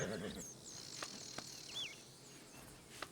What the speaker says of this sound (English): Let's see if I can calm this horse down again.